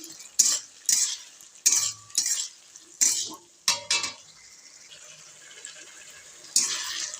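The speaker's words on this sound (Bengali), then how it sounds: "এটা এখন আস্তে আস্তে এরকম করে দিয়ে পুরো টমেটোটাকে গালিয়ে দেবো।" Tomatoes for a sweet tomato chutney being stirred and mashed in a pan, giving a series of close, wet scraping strokes in uneven bursts with a light sizzle between them, and no voices.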